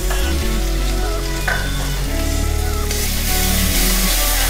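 Onion with ginger paste frying in a pan, a constant sizzle up close beneath a loud, steady low hum.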